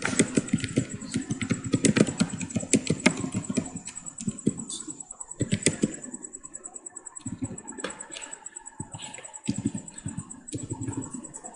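Rapid clicking of keys as a prompt is typed on a computer keyboard, irregular bursts of close taps with short pauses between runs.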